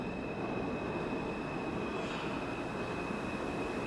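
A New York City subway train rumbles steadily and continuously, with a thin high whine running over the deep, even roar of the cars.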